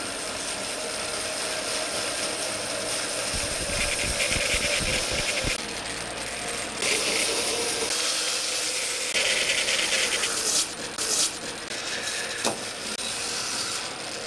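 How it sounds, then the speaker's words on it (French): A 1920s band saw whines steadily as it cuts through wood for clog making, a continuous loud mechanical drone with shifting pitch as the blade bites. "les formes générales sont faites à l'aide d'une scie à ruban datant des années 20."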